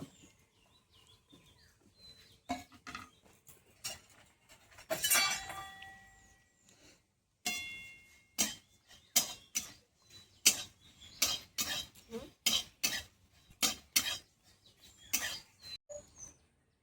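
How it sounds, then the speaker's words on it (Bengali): Whole spices (dried red chillies, cumin, radhuni, coriander seeds, fennel, bay leaves and whole garam masala) dry-roast in a pan, giving irregular clinks, crackles and rattling stirs, quiet and close, with no talking. "শুকনো ভাজা মশলাটা, শুকনো লঙ্কা, গোটা জিরে, রাঁধুনি, গোটা ধনে, মৌরি, তেজপাতা আর গোটা গরম মশলা, এটা একটু শুকনো করে ভেজে নেব"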